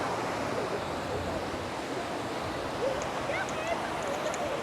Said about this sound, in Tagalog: Mataas yung tubig. Medyo mataas din yung mga alon.